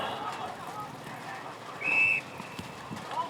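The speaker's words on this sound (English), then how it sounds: "umpire's blown his whistle" An umpire's whistle at an Australian rules football match sounds in one short, shrill blast, moderately distant, amid crowd noise and commentary.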